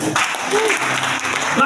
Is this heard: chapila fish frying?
no